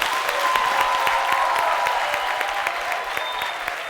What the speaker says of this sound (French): ISPP, on va vous applaudir encore très fort.